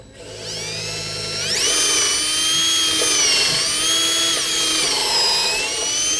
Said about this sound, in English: So now we're pre-drilling all the posts before we put them in place.